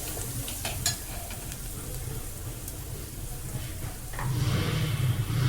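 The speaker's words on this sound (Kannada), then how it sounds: "ಹಾಕಿ ಸ್ವಲ್ಪ ಫ್ರೈ ಮಾಡ್ಕೊಳ್ಳಿ" Ingredients for idli bath fry steadily in a pan, a continuous soft sizzle with a few brief clinks of stirring, growing a little louder and denser toward the end.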